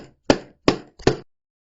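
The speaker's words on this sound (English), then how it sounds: "Now there was the sound of hammering and the smell from the tubes of superstick." Three sharp hammer blows ring out in a slow, even rhythm, each a crisp close impact with a short decaying tail, isolated against silence.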